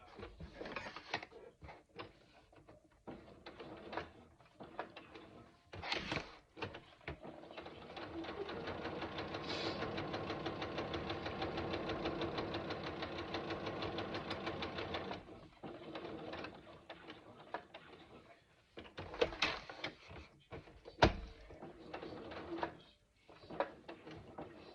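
A sewing machine stitches zipper pockets for a backpack, running in several bursts: short stops and starts, then a long steady whirring run of about five seconds, then more brief bursts with small handling clicks in between.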